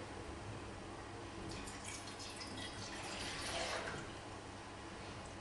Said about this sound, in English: So we pour our water into our mixing container.